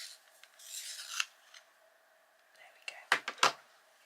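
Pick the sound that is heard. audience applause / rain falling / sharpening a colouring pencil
sharpening a colouring pencil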